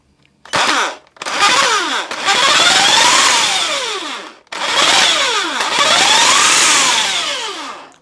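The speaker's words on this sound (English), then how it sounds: "Let's try this hedge trimmer." Electric hedge trimmer powered by a Jackery 300 Plus portable power station, loud close motor bursts that spin up and run for a few seconds each, with a short pause between runs, no talking.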